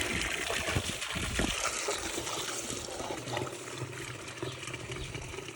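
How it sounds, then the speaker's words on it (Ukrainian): Water from a 19-metre well gushes out at strong pressure, a steady close rushing and splashing flow that continues without a break. "Так, водичка отакий напор. Це на 19 метрів."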